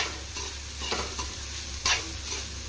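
Vegetable fried rice frying on a high flame gives a continuous sizzle, broken by a few brisk stirring and tossing scrapes close up, with no talk.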